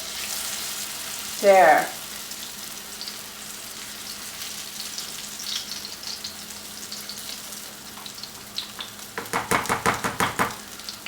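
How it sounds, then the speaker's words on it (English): Potato pancakes made from leftover mashed potatoes sizzle steadily in a pan. A loud scrape and thump comes as one is flipped with a fork, then a burst of louder crackling frying follows, and a voice speaks briefly. "these are getting a little dark, so I'm going to flip this bad boy over"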